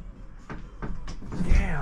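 A large separating door inside an RV slides and closes, giving a few short knocks and bumps followed by a firmer thud near the end, with light voices around it.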